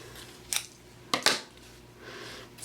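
Scissors cut Crushed Curry chevron ribbon in a few sharp, close snips: one crisp cut, then a quick pair of snips a moment later, with quiet pauses between them.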